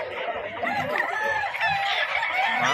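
Roosters and chickens cluck and crow continuously amid a busy gathering where game fowl are brought in at Bocaue, with several birds calling over one another at close range.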